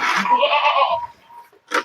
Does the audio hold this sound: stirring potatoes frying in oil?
no